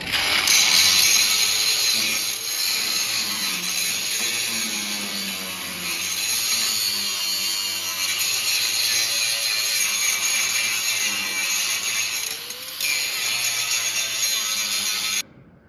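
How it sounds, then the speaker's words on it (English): A DeWalt long nose grinder smooths the metal of a toe tip bucket, a continuous high, harsh grinding close by with slight shifts in pitch and load and a few brief dips. "I'm going to use my little long nose DeWalt grinder now just to get in and grind it all smooth"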